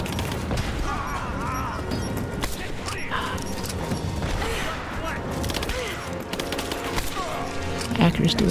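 Gunfire from the video game Rise of the Tomb Raider, with repeated shots and bursts mixed into dense game sound effects and music, steady and loud throughout.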